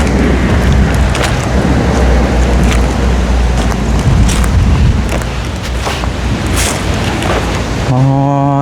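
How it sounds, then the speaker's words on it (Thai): Heavy rain pouring outdoors over a cassava field, a loud, dense, continuous hiss and rumble with occasional sharper patters, and no speech. "ฝนตก"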